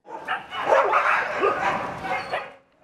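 Several stray dogs bark and yip in quick overlapping bursts, fairly close and loud, continuing for a few seconds before fading out.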